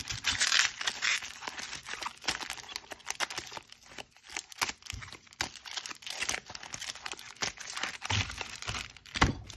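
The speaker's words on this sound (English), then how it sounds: "All right, shuffle up and deal." Rapid papery riffling and snapping of cards, close by, in quick bursts with short pauses between.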